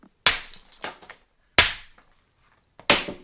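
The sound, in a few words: stone tools being knapped by hand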